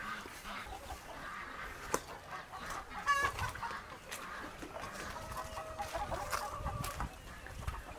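Rhode Island breeder hens on a farm in the Philippines clucking softly and intermittently at moderate distance, with scattered short calls over quiet background noise.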